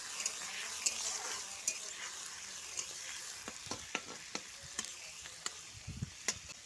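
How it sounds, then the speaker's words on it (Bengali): Shrimp frying in oil gives a quiet, continuous hiss with scattered sharp pops and crackles spread across the stretch, with no talking. "এবার আমি চিংড়ি মাছটা দিয়ে ভেজে নিচ্ছি।"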